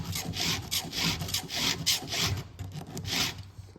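A chainsaw chain is sharpened with a hand file in an Oregon file guide, giving rhythmic rasping strokes, about seven in quick succession, close and clear with no talking.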